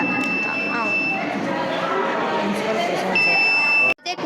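A student fire alarm project's buzzer, driven by a flame sensor and Arduino, sounds a steady high electronic tone continuously over crowded background chatter, cutting out briefly near the end.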